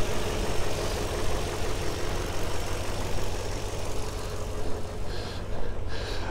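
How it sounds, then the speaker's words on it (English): A 2019 Toyota Tundra TRD Pro V8 idles with the hood open, a low, even, quiet engine hum held steady for about six seconds with no revving. "Very quiet for V8."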